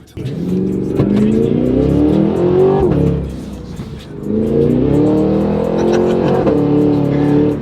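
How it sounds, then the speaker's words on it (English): A 760 whp turbocharged truck launches on launch control and accelerates hard. The loud, close engine note climbs steadily in pitch, drops briefly between gears, then surges again through a second long pull. "Yeah, it's launch control. Let's do a little pull then."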